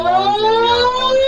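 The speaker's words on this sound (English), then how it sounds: "We hear alarms" A building fire alarm wails loudly and continuously, a steady rising-and-falling siren tone filling the space with no talk over it.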